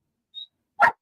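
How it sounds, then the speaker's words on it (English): A single sharp dog bark, loud and close, following a brief faint high tone in otherwise silent surroundings. "Do y'all hear this crazy dog?"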